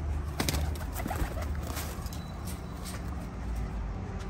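Racing pigeons in flight outdoors, with soft flapping and faint bird calls over a steady broadband wind and rumble, low-pitched noise continuous throughout, no voices present.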